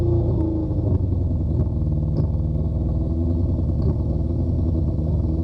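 A Honda CB500/550 motorcycle engine idles close by with a hanging idle, a steady loud rumble with a dense rhythmic exhaust pulse and light mechanical clatter throughout.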